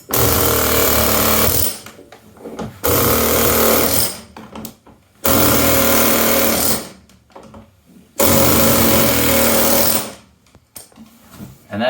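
Four loud bursts of a rapid hammering air tool cutting rivet heads off bus interior wall panels, each about two seconds, separated by short pauses with quieter clatter.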